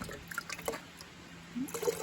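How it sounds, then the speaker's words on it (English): Water is poured out of a container in a few short, quiet splashy bursts, soft and close, with faint background hum and no talking. "Pouring the water out of it."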